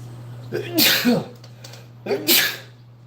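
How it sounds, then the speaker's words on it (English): Two sneezes in quick succession, each with a sharp breathy burst, close to the microphone over a steady low hum. "I'm going to sneeze."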